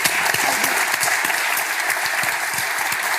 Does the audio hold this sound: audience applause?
yes